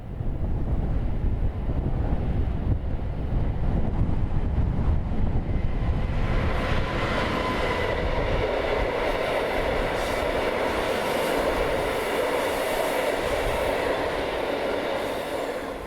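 Class 66 locomotive 66168 hauls a train along the Langham levels near Ivybridge toward Exeter, a loud rumbling passage with heavy wind buffeting the microphone, the engine and wagon roar filling the whole stretch.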